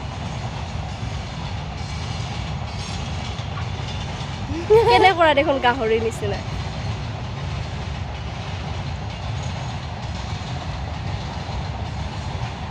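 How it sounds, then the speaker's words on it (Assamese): A passenger train rumbles past with a steady low roll and faint rhythmic clatter throughout, a brief louder squeal in the middle; people talk nearby over it. "এই পিনে গৈ আছে ট্ৰেইন এই পিনে চলি আছে"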